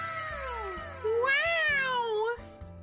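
A cartoonish cat character in the cozy video game Pekoe lets out a drawn-out, rising and falling meow over a soft, looping background melody.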